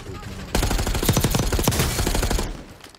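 Loud, rapid bursts of gunfire in a video game, a dense volley of close shots lasting about two seconds before it tapers off.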